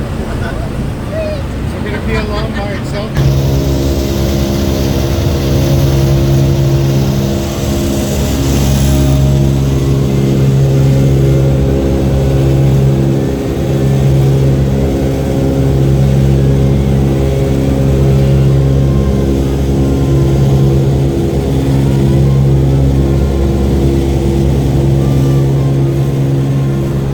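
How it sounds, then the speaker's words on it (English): A deep, steady droning rumble of a B-29 bomber's unsynchronized propeller engines with a slow pulsing harmonic beat, loud and continuous throughout, after a brief noisy start. "feel that harmonic rumble in the airplane?"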